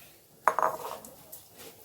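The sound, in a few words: stirring semiya (vermicelli) in ghee in a pan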